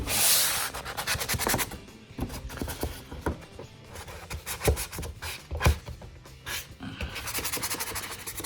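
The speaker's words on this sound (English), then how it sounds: "You want to sand in the corners." Sandpaper folded from an old scrap piece scrubs into the corners of a cabinet being prepped for paint, giving bursts of scratchy rubbing in an uneven rhythm with short pauses between strokes.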